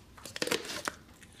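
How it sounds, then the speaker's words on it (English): A whole chicken's breastbone is pressed and broken to flatten the bird, giving a brief, close, quiet cluster of crunching cracks and crinkles lasting about a second. "That sound is the sound of the breastbone being broken."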